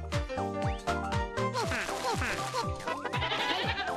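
A goat bleats within the WarioWare: Smooth Moves video game, its wavering cries layered over busy, jingly game music and chiming effects, with a steady dense mix throughout.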